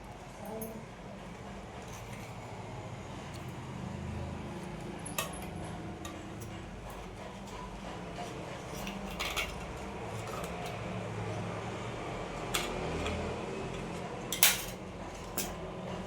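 A metal spoon scrapes and clinks against a steamer plate while ragi idlis are lifted out, a series of irregular light metallic taps and scrapes over faint background noise.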